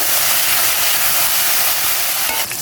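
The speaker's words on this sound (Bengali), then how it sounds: "আর এখানে 2টা পেঁয়াজ কুচি। এখন এগুলোকে একটু আমি ভেজে নিব।" Two chopped onions frying in a pan with cinnamon, cardamom and cloves: a loud, dense, continuous sizzle close by, with a faint scrape near the end.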